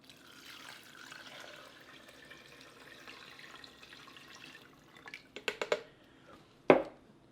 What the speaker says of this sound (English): Lastly goes in our 6 cups of water.